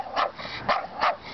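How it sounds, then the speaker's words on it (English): Three sharp barks from a dog in a yard at an alley's edge, close and evenly spaced, with no voices. "There's the dog"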